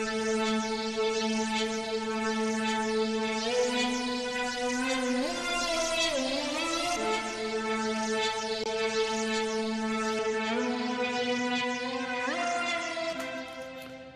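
A sustained synth lead plays a slow melody through a rotor cabinet emulator, with a swirling, warbling rotary-speaker wobble, steady and upfront with no voices.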